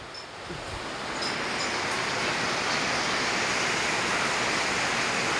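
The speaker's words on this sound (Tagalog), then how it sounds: "Taas ng ulan talaga oh." Heavy rain pours down in a broad, continuous roar that swells over the first second and then holds loud and steady, with no voices over it.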